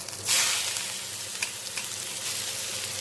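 Papaya pieces go into hot oil with black cumin and dried chili, and a sharp burst of sizzling as they land settles into steady frying with a few light stirring knocks.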